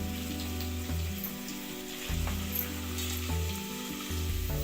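Garlic sizzles and fries in hot oil for a Maharashtrian varan tempering, a steady close crackle with brief breaks and shifts as the pan is stirred or tilted, no voices.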